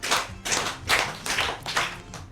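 An audience at a Yoruba storytelling podcast claps together for a storyteller, about five loud, rhythmic bursts of clapping in quick succession, close and with no one talking.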